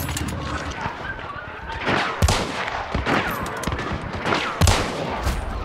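Gunfire in the video game Hunt: Showdown, including a double-barrel weapon: several sharp, heavy shots crack out at irregular intervals over a dense, rumbling battlefield background.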